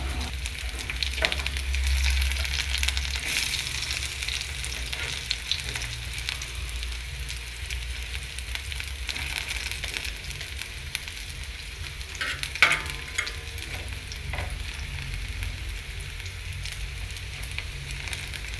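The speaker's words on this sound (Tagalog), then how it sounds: "binalata na kamote ng asawa ko para prituin" Sliced sweet potato fries in a pan with a soft, continuous sizzle, steady and fairly quiet throughout, with a single small click near the middle.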